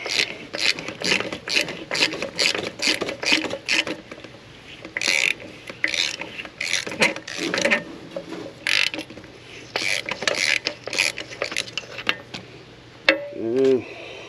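Rapid ratchet clicking comes from a ratchet on a long extension and deep socket working on an ISX Cummins engine. Bursts of steady pawl clicks are close and clear, with a brief metallic ring near the end.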